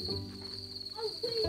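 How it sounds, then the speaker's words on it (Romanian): Crickets chirping in the countryside during an outdoor picnic, a steady high thin trill running through the whole short stretch, fairly faint, with low background murmur beneath. "S-auzi greierii cum cântă."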